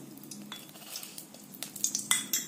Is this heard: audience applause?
no